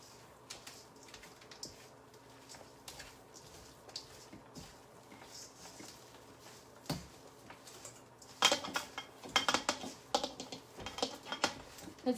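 A spoon scrapes and clicks through thick corn bread batter in a bowl, with quiet irregular taps at first, then a louder, busier burst of stirring near the end and no talking.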